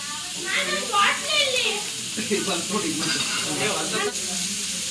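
Fish frying in a pan at home, a steady hiss and sizzle running under continuous talk.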